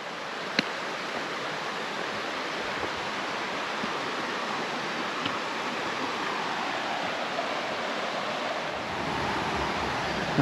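Creek water cascading off rocks on a forested hike to Devil's Bathtub, a steady, full rushing roar with no break, close by and unaccompanied.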